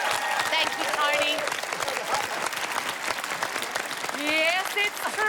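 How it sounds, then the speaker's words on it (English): A studio audience applauding loudly and continuously, dense clapping filling the space close up, with a voice speaking over it at moments. "Keep the applause going for the brilliant Tony."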